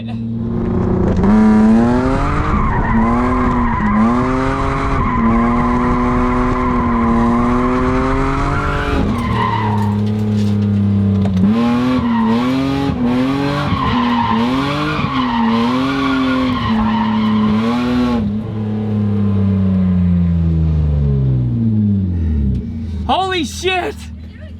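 A $1000 BMW E36 drifts with long, loud tire screeches over a wavering revving engine, the squeal rising and falling through repeated slides before a final wind-down.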